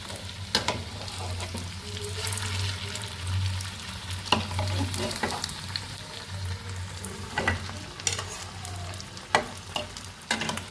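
Steady crackling sizzle of vegetable chops deep frying in hot oil, with occasional louder pops and bursts, close up and uninterrupted by talk.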